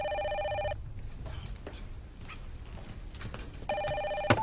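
A telephone bell rings loudly in a soap opera scene, one electronic trill at the start and another at the end, with a quieter room and faint movement between the rings.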